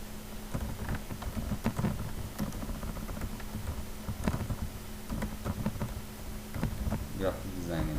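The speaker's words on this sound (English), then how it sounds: "We type here" Typing on a computer keyboard, quiet irregular key clicks and taps in a steady stream, fairly faint and close, with a low background hum.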